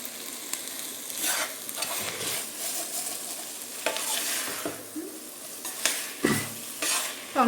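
Tomatoes frying in a pan for paneer biryani, being stirred: a steady close sizzle broken by repeated scraping stir strokes, with no talking.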